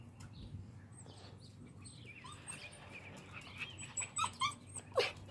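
A dog whimpers and whines in short high-pitched squeaky bursts that grow louder and more frequent toward the end, over a low steady background hum.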